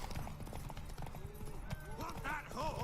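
Horse hooves clip-clop in The Witcher 3 video game, a quiet, steady trotting rhythm with voices speaking over it toward the end.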